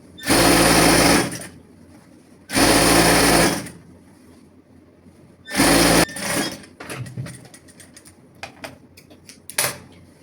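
A sewing machine stitches a casing for a pyjama waistband rope, running in three loud bursts of steady whirring separated by pauses, followed by scattered clicks and handling noises.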